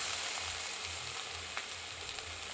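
Garlic frying in a pan for mutton paaya soup gives a steady, even sizzle that holds at a moderate level with no pauses and no voices.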